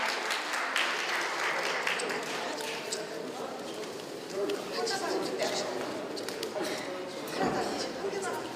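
A crowd gives warm applause at a formal opening ceremony where honorary advisors are appointed, a thick, sustained wash of clapping that fills the room for several seconds, mixed with some crowd murmur and scattered sharper claps.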